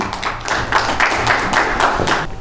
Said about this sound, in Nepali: जोरदार तालीले स्वागत गरौँ प्लिज।